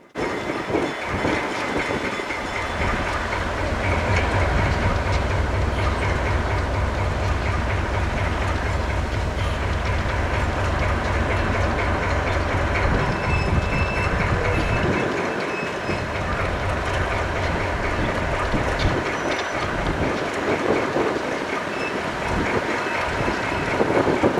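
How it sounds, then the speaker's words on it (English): Heritage locomotive 11 labouring as it pulls a whole cut of cars at the Hoosier Valley Railroad Museum, a loud, continuous low rumble and chug with rolling rail noise, close and sustained throughout. "here it is, roaring into life, pulling that whole cut"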